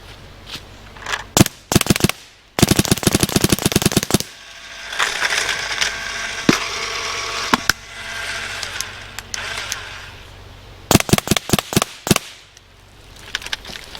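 A Dye Rize CZR paintball marker fires rapid bursts of rounds, sharp repeated pops in fast strings with quieter gaps of mechanical handling between volleys.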